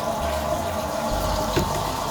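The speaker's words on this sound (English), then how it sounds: "now I got water coming out of the sink" Water runs steadily from a sink tap while a newly replaced water heater's lines are purged of air, giving a constant rushing flow with a slight sputter partway through.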